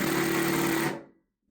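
A DeWALT 20V impact driver drives a screw into pine, a dense whining motor burst close up that runs steadily for about a second, then stops abruptly and falls to silence.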